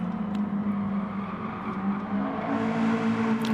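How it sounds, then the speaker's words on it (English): Loud race cars drone steadily around a track at a CRC/AutoNation Shoot-Out semi-final, a continuous distant engine roar with no talk over it. "Or maybe it's just the cars that loud."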